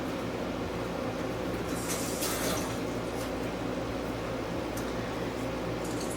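Tap water running steadily as a stove part is rinsed in a home kitchen, a constant close hiss and splash with a few brief clatters, no talk.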